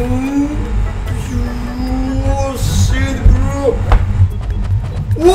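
A car engine revs at full throttle in the BeamNG driving game, its pitch sweeping up and dropping back over a low rumble, while people talk excitedly over it.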